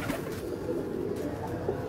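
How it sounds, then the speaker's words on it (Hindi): A red-marked breeding pigeon cooing softly and steadily nearby, a low continuous rolling coo with no other voices. "अब दोस्तों ये देखें कबूतर बड़े अच्छे अंदाज में खड़ा है"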